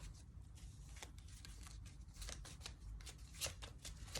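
Tarot cards shuffled by hand give off quick, soft riffling bursts in an irregular rhythm, close and quiet, with no talk over them.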